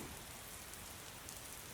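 Steady soft rain hisses evenly and faintly throughout, a continuous wash of drops with no other sounds standing out.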